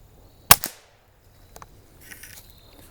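A single M14 rifle shot in .308 Winchester fired through a chronograph outdoors, one sharp loud crack with a quick echo, followed by faint distant sounds.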